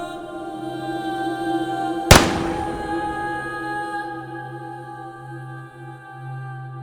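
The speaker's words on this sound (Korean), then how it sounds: "한 발의 총성이 울렸습니다" A single sharp gunshot cracks once near a highway interchange on a lonely hillside at dawn in fog, a loud isolated burst over a steady low background drone.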